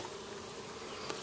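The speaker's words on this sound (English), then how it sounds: "Surprisingly, bees still land on the... They're pretty quiet." Honey bees from an outdoor colony buzz faintly and steadily close by, a soft continuous drone with no voices over it.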